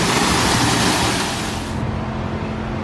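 Rushing waterfall water at Animal Kingdom pours in a loud, broad steady roar from close by, then drops abruptly to a softer, duller wash as if moving behind the falling water.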